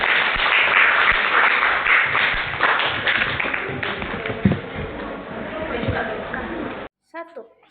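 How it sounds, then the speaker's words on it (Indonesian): A class of school pupils claps together in a loud, continuous patter of applause, with a few thumps and voices mixed in. It cuts off abruptly near the end. "Tepuk tangan untuk hari ini."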